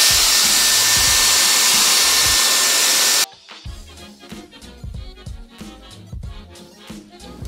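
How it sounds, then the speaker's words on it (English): A Dyson Airwrap smoothing brush blows hard and steadily on hair for about three seconds, then cuts off abruptly, leaving quieter handling clatter. "I was gonna test the smoothing brush, which is supposed to like help straighten your hair"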